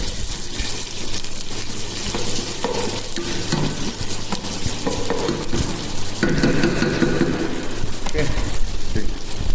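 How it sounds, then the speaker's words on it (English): Onion sautéing in hot oil in a pan for beef biryani, a continuous close sizzle with repeated stirring and scraping throughout, swelling louder in the second half. "So now I am putting this onion. We will saute onion."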